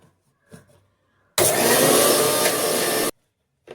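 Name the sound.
mixer grinder grinding masala paste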